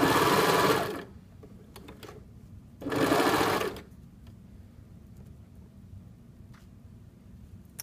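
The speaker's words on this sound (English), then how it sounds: "And start serging." A serger stitches a t-shirt neckband through three layers of knit fabric, running in two loud, steady whirring bursts of about a second each, separated by a quiet pause with faint handling sounds.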